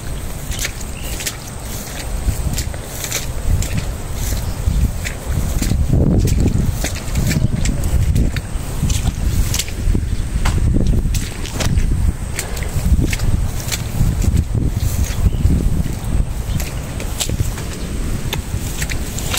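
Strong typhoon wind gusts roar and buffet the microphone continuously, with intermittent knocks and creaks as large boats shift and bump on the water.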